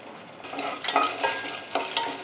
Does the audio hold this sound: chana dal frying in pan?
yes